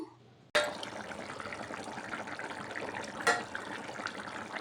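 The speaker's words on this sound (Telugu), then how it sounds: "ముక్కలు మునిగేంతవరకు వాటర్ యాడ్ చేసుకుందాము" Water pours into a pan of chicken curry cooked with drumsticks (mulakaya), a steady close splashing gush that starts abruptly and runs on, with a brief louder splash partway through.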